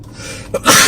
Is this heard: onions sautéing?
no